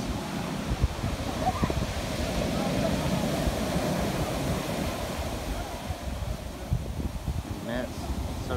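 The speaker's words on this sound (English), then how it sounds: "Big waves." Steady rush of surf washing in close by onto a black sand beach on Maui, broad and continuous, with wind buffeting the microphone throughout.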